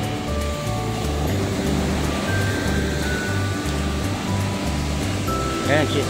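Ocean waves rolling in at Baler beach in Aurora, a steady low surf roar that stays constant throughout, with a faint voice under it.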